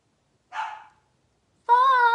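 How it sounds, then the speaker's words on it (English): A dog gives two short barks from indoors, one rough and breathy and the other a clear, higher yelp, separated by a second of silence and heard alone. "He is barking, y'all."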